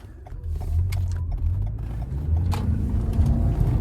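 A 2024 Toyota Camry Hybrid accelerating on the road, a steady low engine and tire drone that rises slightly, heard from inside the car with no talking.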